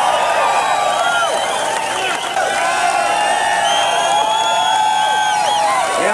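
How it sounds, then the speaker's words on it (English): A large crowd at a 1992 AMA outdoor motocross championship cheers, whoops and whistles for a rider receiving a plaque, with a loud, continuous roar and some clapping underneath. "you guys owe him a big round of applause"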